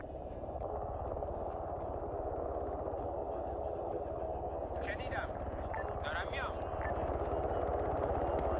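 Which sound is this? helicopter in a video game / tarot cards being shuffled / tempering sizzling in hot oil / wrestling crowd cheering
helicopter in a video game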